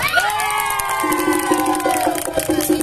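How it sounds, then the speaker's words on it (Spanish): A crowd cheers and shouts loudly and continuously at a dance competition, with whoops and a sustained tone running beneath the noisy celebration. "Aplausos para Carlita la tejana"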